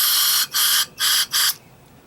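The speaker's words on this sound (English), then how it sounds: "I'll take my canned air." Canned air blasts through the passages of a 30hp Evinrude outboard carburetor in four sharp, hissing bursts of roughly equal length with brief gaps between them, close and loud, ending in quiet.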